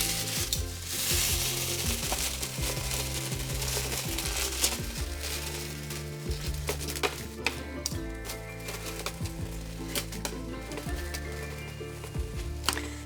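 A London broil steak cooks in one pan under an oven broiler beside potatoes, crackling with a continuous dense sizzle and scattered sharp pops and spits, moderately loud and steady throughout.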